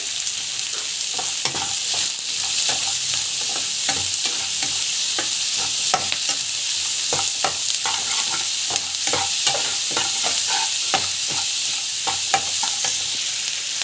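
Mustard seeds, cumin, dal, garlic and onion being sautéed in oil, a steady bright sizzle with frequent spoon scrapes and stirring clicks throughout, close and continuous with no talk.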